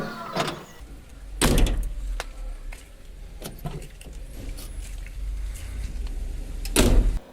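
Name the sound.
Chevrolet Astro Van 95 door closing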